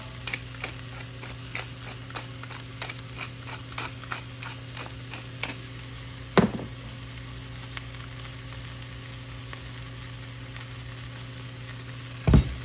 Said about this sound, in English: I'm just gonna kind of start to like break this all up using the side of my spatula